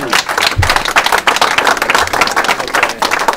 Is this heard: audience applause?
yes